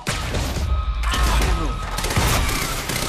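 Rapid gunfire from a firefight in the Quantum Break video game, a loud, dense stream of overlapping shots and impacts that continues without pause from start to finish.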